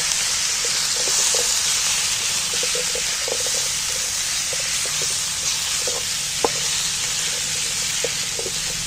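Chicken with turmeric frying in a pan while it is stirred, a loud, constant sizzle with scattered light clinks and scrapes of the spoon, and no voices.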